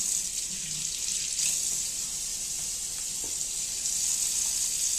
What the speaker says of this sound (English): we're going to wash our hands first before touching or preparing any food